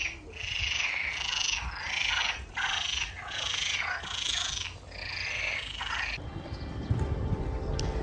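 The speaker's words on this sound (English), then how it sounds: "Frog concert" Dense chorus of frogs croaking near Redondela on the coastal Portuguese Camino, pulsing in overlapping waves, loud and continuous before dropping off toward the end.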